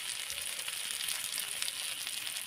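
Bagda fish frying in a pan after being flipped, giving a continuous, even sizzle with fine crackling throughout, close and moderately loud, with no voices.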